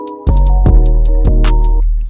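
An 808 bass beat holds a single F root note, a deep droning boom beneath sharp hi-hat ticks and a looping melody, short and loud with no pitch changes.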